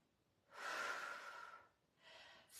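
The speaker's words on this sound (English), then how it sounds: "Exhale as you lift." Breathing during an upper body and core exercise: a long, airy exhale followed by a shorter second breath, soft and close, with no talking.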